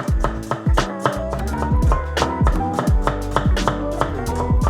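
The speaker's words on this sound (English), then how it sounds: "Peel the skin, then slice the onion into thin strips." A knife slices an onion into thin strips on a cutting board, making a steady run of crisp, close taps over a tonal musical background.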